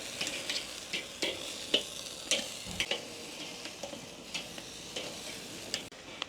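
Adana kebabs and flatbread sizzle on a home grill as the fat renders, giving a steady crackling fry dotted with sharp pops and light ticks, heard up close with no talk.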